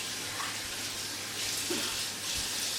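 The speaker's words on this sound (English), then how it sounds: "wash my hands again" Kitchen tap water runs steadily into a sink while hands are washed, a continuous close splashing flow with slight changes in tone.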